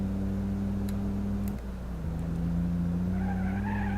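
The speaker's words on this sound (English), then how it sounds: "now that I can actually hear it better at higher revs, I can see it's kind of got that deep diesel sound" Diesel car in BeamNG Drive revving hard, then skidding with tire squeal as the engine note dips, followed by rising revs again, loud and close throughout.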